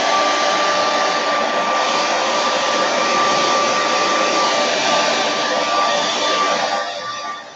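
A blow dryer runs steadily and loudly throughout while drying a flower bouquet, a constant broadband whoosh that eases off slightly at the very end.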